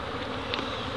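Honey bees buzzing around a colony during beekeeping, a continuous dense drone filling the short moment, steady and moderately faint.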